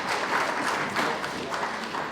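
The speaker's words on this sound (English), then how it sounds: "So perhaps a round of applause for the students." A school audience at the Windsor Platinum Jubilee Schools' Week launch applauds the students with a brief burst of many hands clapping nearby, steady and full for about two seconds.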